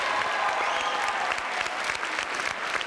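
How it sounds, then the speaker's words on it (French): A television studio audience breaks into lively, continuous applause, many hands clapping together in an even wash of sound that stays full and close throughout, with a faint murmur of voices beneath. "Applaudissements pour Axel et Alioune."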